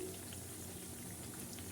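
Onion fritters (piyaju) crackle steadily as they fry in hot oil while being turned, a faint, even, dense sizzle with no talk.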